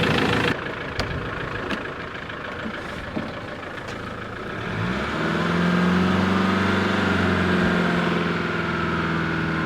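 A car engine ticks over steadily at idle, a low even hum that grows fuller and louder midway, with a few sharp clicks and knocks near the start and no speech.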